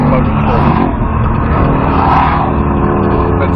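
Nissan Skyline R32 GTR engine droning steadily on a track, loud and close throughout, with a voice talking over it.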